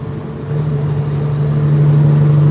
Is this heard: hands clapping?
no